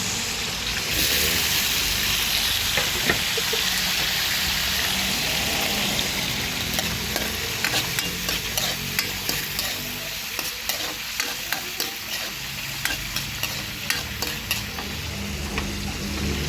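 Tomatoes and sardines sautéing in a pan, with a steady sizzle of frying in oil and repeated scraping stirs of a utensil, close and continuous with no talking.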